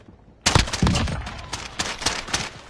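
Rapid gunfire bursts out after a short quiet lead-in in a PS4 shooter game, a loud, clustered volley of sharp shots followed by scattered repeated cracks.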